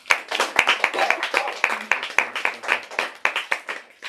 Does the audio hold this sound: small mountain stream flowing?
no